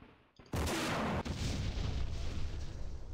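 A recoilless rifle jeep fires at tanks in the war game Campaign Series Middle East: one sudden loud blast, followed by a sharp crack and a long rumbling battlefield roar that lingers to the end.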